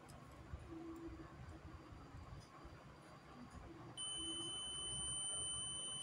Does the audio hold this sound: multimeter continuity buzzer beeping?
yes